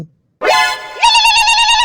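Phone ringtone in a Chhattisgarhi cartoon, two loud bright electronic tones rising into a sustained warbling ring, close and alone after a brief silence.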